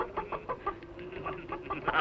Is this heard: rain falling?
no